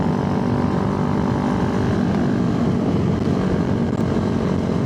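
A Suzuki Raider motorcycle engine revving hard at high speed in a race against another bike. The drone is loud, close and continuous, with no talk over it.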